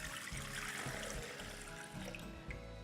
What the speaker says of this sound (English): Add 500 grams of water